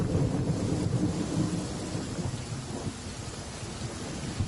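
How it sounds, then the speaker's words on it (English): Rain and rumbling thunder in the video game Genshin Impact, a steady loud downpour hiss blended with low rolling thunder throughout. "Wow, the rain."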